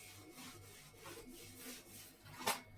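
Repeated back-and-forth rubbing as writing is erased from a board during a physics lesson, soft rhythmic strokes close by with a brief sharper scrape near the end, no voices.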